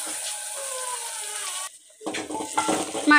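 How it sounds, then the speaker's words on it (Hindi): Garlic and green chillies frying in a pan with tomatoes added, a steady sizzle that cuts out briefly and then returns with clattering stirring and louder hissing. "इसी तरह हमने लहसुन और हरी मिर्चों को अच्छी तरह भून लिया है। अब हम डालेंगे टमाटर"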